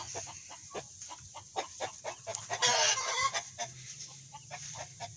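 A hen clucks repeatedly nearby in a chicken coop in short, uneven bursts, with one louder rasping squawk in the middle and light background noise.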